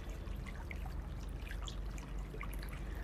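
A nearby stream of water trickles and burbles steadily, soft and continuous with small splashing bubbles, with no voices over it.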